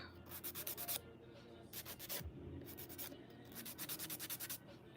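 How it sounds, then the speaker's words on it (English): A fingernail is filed with the coarse 100 grit side of a nail file, making close, scratchy strokes in quick rhythmic bursts, with brief pauses between sets. "Using the 100 grit side, so use the stronger grit to really like get it down"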